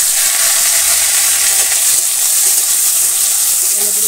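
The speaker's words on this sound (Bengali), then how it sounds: "এখন তেলের পরে বেগুনগুলো দিয়ে দেবো।" Eggplant pieces hit hot oil in a village kitchen pan and set off a loud, steady sizzle, a dense continuous hiss that holds for the whole stretch with no pause.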